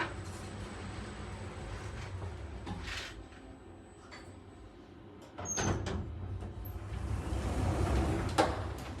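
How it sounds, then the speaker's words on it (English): Schindler 3300 elevator door in an apartment building in Madrid, Spain, sliding shut with a low rumbling glide, then a louder rolling movement and a soft clunk as it closes, close by. "Now watch the door shut."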